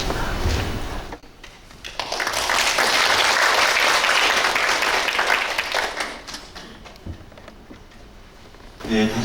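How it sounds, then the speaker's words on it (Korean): Audience applause at an academic conference on Buddhist ritual culture following a lecture, a sustained, dense burst of clapping that swells, holds for several seconds and then thins out. "큰 박수 부탁드립니다"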